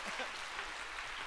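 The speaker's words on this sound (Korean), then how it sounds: "나 여기서 왜 박수를 치는지 모르겠는데" A church service audience applauds briefly, a soft, dense patter of clapping heard at a distance, only for about a second.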